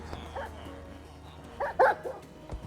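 Guard dogs in a Minecraft game give a few quick barks and yips, close and clear against a faint background, with one louder bark near the end.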